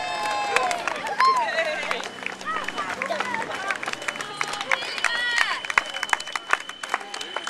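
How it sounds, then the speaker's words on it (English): Spectators at the Conwy Half Marathon cheer and whoop as runners pass, with continuous crowd noise, scattered claps and shouts, and voices calling out encouragement close by. "Come on, big cheer!"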